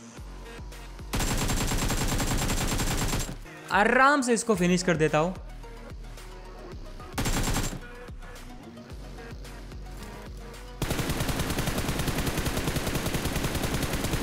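Bursts of automatic gunfire from a mobile battle-royale shooter game on a Samsung phone, several loud volleys broken by pauses, with someone talking over much of the action.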